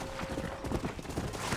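Horse hooves clip-clop steadily in Red Dead Redemption, a continuous run of close, fairly loud hoofbeats over a busy background mix, with no talk.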